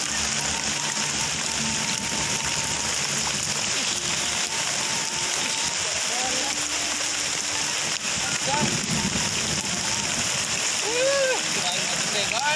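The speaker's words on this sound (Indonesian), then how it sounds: "Tuh, hujan gede guys" Heavy rain pours steadily on an outdoor eel-fishing spot, a dense continuous hiss of drops splashing on surfaces, with faint voices talking underneath.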